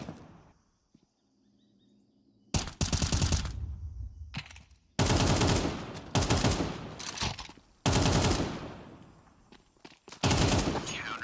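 Pistol fire in a competitive esports shooter match at a LAN event, heard as repeated loud bursts of close shots separated by short pauses.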